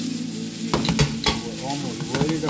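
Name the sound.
onions and jalapenos sautéing in a pan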